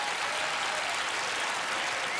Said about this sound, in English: You can applaud for her as she does.